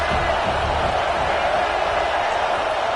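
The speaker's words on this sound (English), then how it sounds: "This crowd bringing the energy and noise early." A college football stadium crowd at an SMU versus Utah game, a constant dense roar of many voices holding steady and loud throughout, with no clear single cheers standing out.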